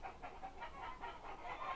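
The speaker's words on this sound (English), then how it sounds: "Why are those chickens clucking?" Chickens cluck in a rapid, rhythmic series of short calls at moderate distance, continuing steadily throughout with a faint outdoor background.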